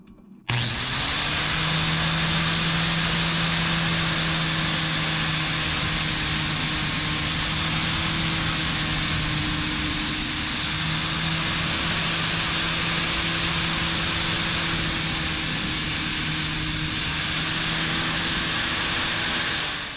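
An angle grinder's disc whines at a steady high pitch, loud and close, as it sharpens a lawn mower blade, running continuously for about twenty seconds with faint scraping texture and no talking.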